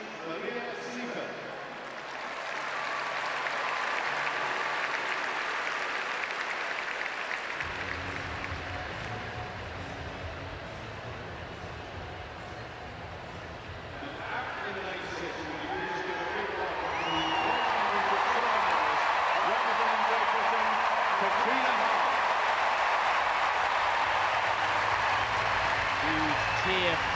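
Large stadium crowd applauding and cheering at a Paralympic athletics event at the London 2012 Games, a sustained wash of clapping that swells louder toward the end, with an announcer's voice speaking over it.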